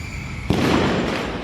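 A Diwali firework bursts with a sharp, loud crack partway through, followed by a sustained crackling wash that fades slowly, over a steady background hum.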